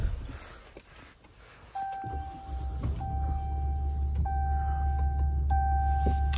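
A 2021 RAM 2500 Big Horn crew cab pickup engine cranking and catching, then settling into a deep, steady idle with repeated chime tones from the cabin, heard up close.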